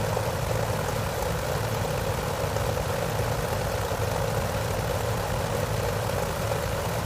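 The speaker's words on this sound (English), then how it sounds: "It just takes this plane a little while to get up to speed and altitude" Curtiss Jenny biplane engine in flight within a flight simulator game, a steady dense propeller drone with a constant throbbing hum, continuous and even throughout with no voices.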